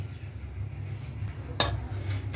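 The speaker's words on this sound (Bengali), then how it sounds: "থালার মধ্যে ভাতটা দিয়ে দেবো" A single sharp clink of dishes sounds while rice is served onto a plate at home, set against a steady low hum, with no talking.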